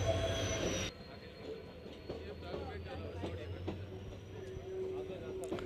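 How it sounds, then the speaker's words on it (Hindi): A special inspection train rumbles into Sujangarh railway station, its wheels squealing with a high metallic whine over a low steady rumble, while people on the platform talk in the background. "उत्तर पश्चिम रेलवे की स्पेशल ट्रेन CRS ट्रेन पहुंच चुकी है"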